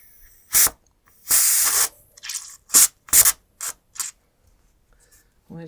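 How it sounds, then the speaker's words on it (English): Air and water hiss out in loud, irregular bursts from the bleed valve of a sediment water filter, some long and some short, with quiet gaps between them. "you want to let the air out till you get water"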